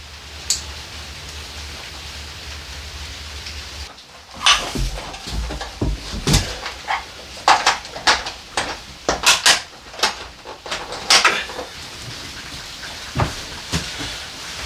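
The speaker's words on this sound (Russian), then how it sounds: "Начался дождь" Rain falls over a village on a dark afternoon as a steady, close hiss of drops, then quiets as a run of sharp knocks and patters from drips and nearby objects breaks through irregularly.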